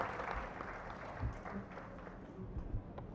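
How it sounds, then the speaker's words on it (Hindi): An audience at a book launch ceremony gives a welcoming round of applause, a faint, continuous clatter of many hands clapping from a distance. "आप लोग जोरदार तालियों से उनका स्वागत करें।"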